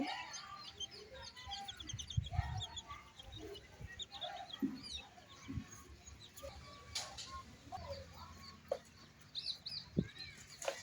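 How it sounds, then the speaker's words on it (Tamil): Chickens cluck and murmur quietly in a village yard, scattered soft calls and chirps with occasional rustling and wing flutters, no single sound dominating. "இந்த இடம் ஃபுல்லாக நிறைய கோழி இருக்குது."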